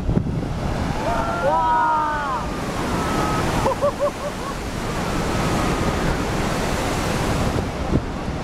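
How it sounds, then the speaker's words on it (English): Pacific Ocean surf and wind during a cyclone, a continuous heavy roar of crashing swells and gusting air with a few brief tonal cries over the noise. "Here is footage of the Pacific Ocean during a cyclone."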